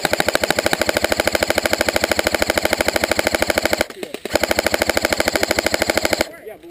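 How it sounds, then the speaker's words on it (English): Airsoft guns fire in long, rapid, evenly spaced bursts of sharp clicking shots, close and loud, broken by one short pause and stopping near the end. "Sean, stop shooting me"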